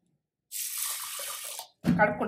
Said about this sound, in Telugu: ఇక వాటర్ మనము ఒక రెండు సార్లు కడుక్కుంటా